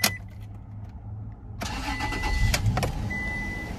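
A 2005 Toyota Tacoma with the 4.0 V6 cranks over after a short quiet pause, then catches and settles into a steady idle close by.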